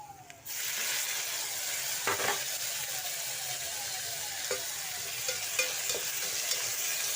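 Tomatoes sautéing in a pan with ginger for vegetable biryani, a steady close sizzle and hiss throughout, with a few scraping stirs and clinks of a spoon.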